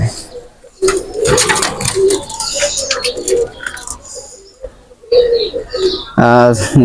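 Pakistani breed pigeons coo softly in the background while someone talks loudly over them through most of the clip.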